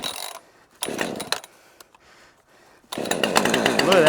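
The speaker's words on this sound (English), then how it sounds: "Let's see if this 545 starts." Husqvarna 545 chainsaw in freezing weather: short bursts of engine sputter and pull-start attempts, then the saw catches and runs loudly, the buzzing engine sustained through the final second.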